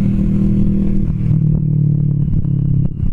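A Kawasaki Vulcan S 650 Cafe ABS cruiser's engine and exhaust revs loud and close, a steady throbbing rumble with brief throttle blips and no talk.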